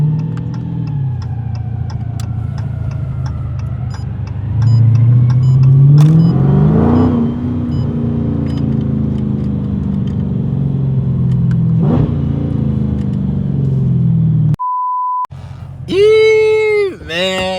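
A straight-piped 2020 Dodge Challenger Scat Pack growls at idle and revs, its deep exhaust note rising and falling loud and close, before a short beep and a voice near the end.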